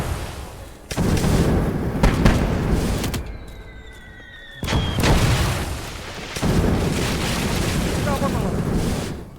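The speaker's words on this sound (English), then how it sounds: "2 mortars." Mortar explosions in the video game Motherland: a series of heavy, booming blasts with rumbling low-end tails, interrupted by a brief quieter gap, set against dense battlefield noise with occasional voices.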